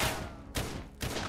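Gunfire in a zombie apocalypse video game, two or three sharp bursts in quick succession, loud and close.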